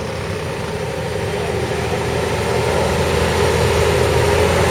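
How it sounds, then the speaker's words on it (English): A Series 1 Unimog truck with a big V6 engine idles steadily in the ring at a vintage and country show, a continuous low rumble holding close and fairly loud throughout. "Now we've got the Unimog."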